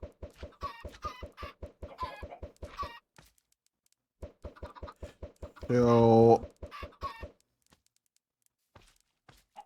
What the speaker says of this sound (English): These chickens will grow eventually and produce me some eggs.